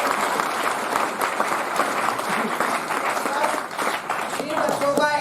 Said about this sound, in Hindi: एक बार सर के लिए जोरदार तालियां बजाएंगे